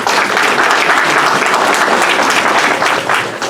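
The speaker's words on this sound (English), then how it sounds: "Let's give her a round of applause." Dense, steady applause from an audience at a Toronto community event hosting Ghana's Second Lady, loud and sustained for the whole stretch before tapering slightly at the end.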